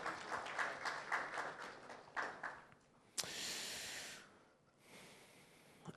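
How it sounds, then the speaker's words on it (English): A studio audience on a television morning show gives brief applause, a faint scatter of claps fading within a few seconds, followed by bursts of hiss and noise. "A round of applause for her"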